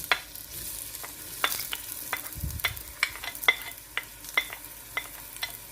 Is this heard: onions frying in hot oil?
yes